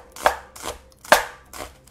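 A knife chops an onion on a cutting board in four crisp, close strikes at an even, unhurried pace, with nothing else heard.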